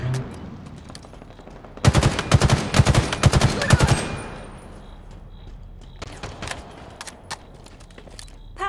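Automatic gunfire in Halo Infinite during a Capture the Flag match on the map Illusion: a loud, rapid burst of about two seconds, then scattered fainter shots further off, with an announcer voice heard briefly.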